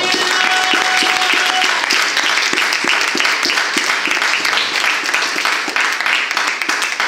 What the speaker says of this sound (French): Alors acclame le Saint-Esprit encore.